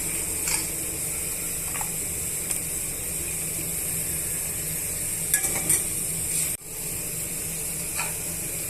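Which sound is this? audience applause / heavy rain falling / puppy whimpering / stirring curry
stirring curry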